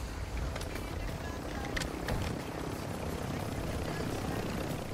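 A helicopter in the video game Call of Duty DMZ keeps up a continuous whirring rotor drone, loud and close, with faint voices underneath.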